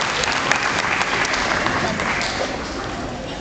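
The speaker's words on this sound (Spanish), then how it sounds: "Vamos a brindar un aplauso fuerte a los papás de Susana" Guests at Susana's quinceañera give a loud, sustained round of applause for her parents, continuous clapping filling the room with crowd murmur underneath.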